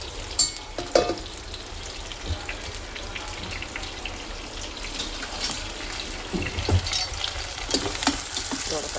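Tomatoes frying with garlic and onion for a dried fish curry, a close, steady crackling sizzle with sharper pops and occasional scraping as the pan is stirred, no speech.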